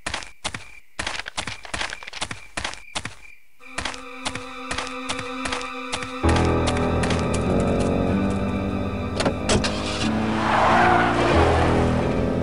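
A car in the adventure game Full Throttle revs and pulls away, tires squealing in a long loud skid, with sharp thumps and clanks before the engine roar takes over and holds to the end.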